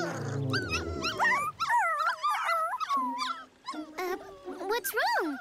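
Cartoon dogs at a dog park whine and whimper in high, wavering cries, several overlapping voices close by and fairly loud, with a short stretch of speech at the start.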